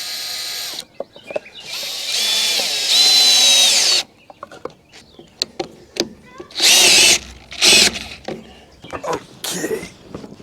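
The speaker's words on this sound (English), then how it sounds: "a 10mm socket attached to my drill, and we're just going to run these screws in" A power drill fitted with a 10mm socket whirs in two long bursts, driving screws, with clicks and handling knocks in between, close and loud.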